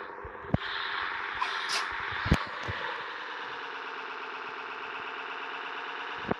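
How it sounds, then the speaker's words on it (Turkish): Truck engine in the Cargo Simulator 2021 video game, a steady droning hum with layered harmonics that holds throughout, with a few sharp clicks and brief bursts over it. "Biraz konuşmayayım da şu arabanın sesini dinleyelim."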